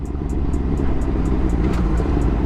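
A 2011 Suzuki GSR 600 motorcycle engine idles close by with a loud, deep, steady rumble and even mechanical pulsing throughout.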